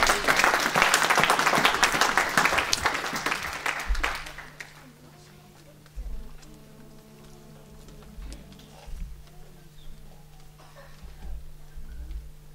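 A church congregation breaks into loud, dense applause that fills the first four seconds, then fades into scattered claps, footsteps and a steady low hum.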